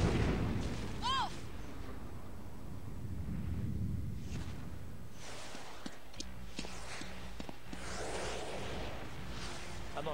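Rumbling explosions and blasts from the inFamous 2 video game demo, several booming bursts mixed with other game effects and footstep-like sounds, partly under speech.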